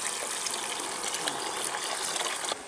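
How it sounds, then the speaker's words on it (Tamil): Water gushes steadily into a pot of snail curry seasoned with chili and curry powder, a loud continuous splashing pour that runs for nearly three seconds, then drops off abruptly at the end. "தண்ணி ஊற்று."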